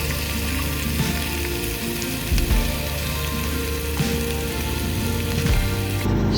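Fajita meat with bell peppers and onions sizzles steadily in a pan at a Grand Canyon campsite, a dense continuous frying hiss with faint stirring bumps and no voices.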